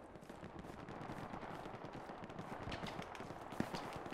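Nighttime battle in the World War II shooter Hell Let Loose near Sainte-Mère-Église, with cannon fire amid a dense, steady roar of gunfire and explosions and one sharp, louder blast near the end.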